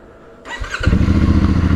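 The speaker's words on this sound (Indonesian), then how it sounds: "Cool start engine itu sob." A CFMOTO 450MT motorcycle starts from cold: a short crank, then the engine catches and settles into a loud, rapid, throbbing idle right up close.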